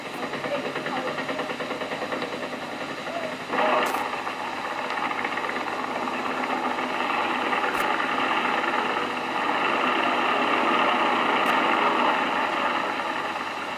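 A queue of veteran motorcycles idles at the Pioneer Run start, among them a 1908 Triumph, making a steady, dense mechanical chugging and knocking throb that stays continuous throughout with a few faint clicks on top.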